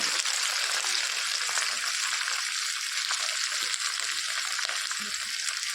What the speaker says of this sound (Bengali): লবণ সব দিয়ে মশলাটাকে সবজির সঙ্গে ভেজে নেব